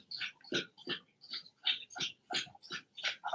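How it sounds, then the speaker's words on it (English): A dog laps drinking water close by, a quick rhythmic series of wet tongue splashes, about ten laps, fairly quiet. "This dog drinks some damn water."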